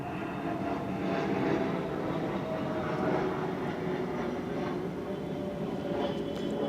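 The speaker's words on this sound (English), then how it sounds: "And a plane right on time." An airplane passes overhead, producing a steady, loud, broad rumbling roar that holds without a break throughout.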